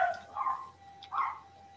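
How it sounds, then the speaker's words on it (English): A dog barks somewhere nearby, giving two short barks about a second apart over a quiet room hum. "dog's barking, that's what they do"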